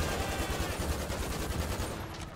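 Rapid bursts of GTA V gunfire during a police raid on a favela crackle continuously, dense and loud, with overlapping shots throughout.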